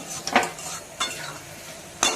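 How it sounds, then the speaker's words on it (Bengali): Atap rice and spices being stirred in a pan for a vegetarian cauliflower muri ghonto, with a few scraping clatters of a spoon against the metal pan over a faint sizzle, no talking. "এবার আমি মশলাটাকে ভালো করে আতপ চালের সঙ্গে ভালো করে কষিয়ে নেব।"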